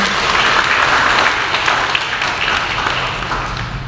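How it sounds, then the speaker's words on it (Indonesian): An audience at a parish recollection for liturgy ministers breaks into loud, sustained applause, many hands clapping densely and evenly, slowly easing toward the end. "Tepuk tangan untuk"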